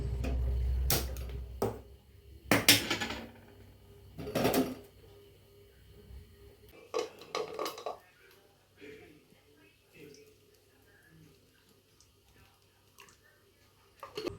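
A pan is set on a home stove to fry parippu vada, giving a few sharp metallic knocks and clatters spread over quiet kitchen background, with soft scraping and clicks in between.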